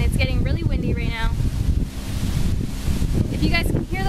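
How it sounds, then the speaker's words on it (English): Outdoor wind buffets a microphone in loud, rumbling gusts that run throughout, while someone talks over the noise. "it's getting really windy right now."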